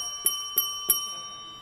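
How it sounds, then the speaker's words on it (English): A small hand bell struck during devotional kirtan chanting, three bright ringing strikes evenly spaced with sustained overtones, moderately close and heard alone. "You get to ring the bell."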